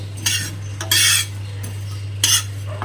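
Fennel seeds and five-spice (panch phoron) dry-roasting in a pan for olive chutney, heard as three bursts of scraping and stirring against the metal with quieter gaps between them.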